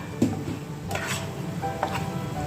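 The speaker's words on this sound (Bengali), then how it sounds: "এখন বাটনা দিয়ে কষিয়ে নিচ্ছি।" Spice paste of chilli, cumin and ginger being stirred and fried in a pan with steamed potatoes, giving a steady soft sizzle with a few scraping clinks of a spoon against the pan, close by.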